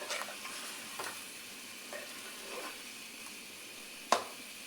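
Beef korma seasoned with garam masala, kewra and crushed green cardamom fries in a pot, a soft steady sizzle broken by occasional stirring scrapes and a sharp clink of the spoon near the end.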